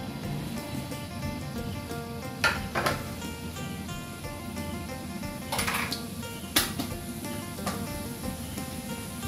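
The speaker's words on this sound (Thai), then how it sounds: "ใส่น้ำมันแล้วก็ใส่ขิงนิดหน่อยนะคะ" Ginger sizzling in hot oil in a home kitchen pan while fish is being prepared, a steady low frying crackle with a few sharp clinks of utensils against the pan and no talking.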